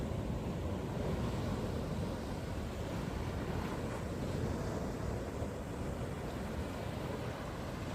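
Water lapping at night at Balboa Island in Newport Beach, a steady broadband wash of waves mixed with wind rush, constant and moderately loud with no voices.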